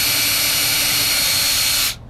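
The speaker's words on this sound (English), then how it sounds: "So first I need to drill" Power drill boring a hole in wood for a homemade swing, a steady close, loud high whine that runs for about two seconds and then cuts off abruptly.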